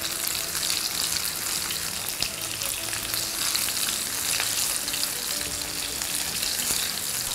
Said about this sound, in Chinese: 我们再翻面一次，再给它煎一煎，这样煎出来它表面就是脆的